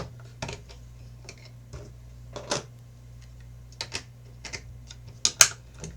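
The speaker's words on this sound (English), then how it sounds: "I'm just gonna switch back my blade to a straight blade and cut a clean line" A craft paper trimmer fitted with a straight blade slices paper for a scrapbook wheatfield border, giving several short, sharp clicks and scraping strokes spaced unevenly over a low steady hum, fairly close and moderately quiet.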